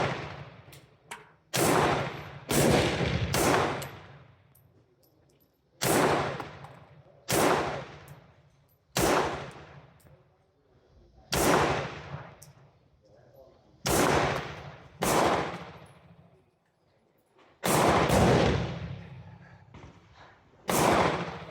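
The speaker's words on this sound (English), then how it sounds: "shoot a little more accurately today." Eight loud, sharp reports ring out from an Astra 600/43 pistol with a reproduction grip, fired one at a time at an outdoor range with pauses of one to two seconds between shots, each followed by a short echoing tail.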